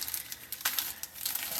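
A plastic bag holding small hinges and screws crinkles briefly, with soft close rustles and light clicks of the parts inside.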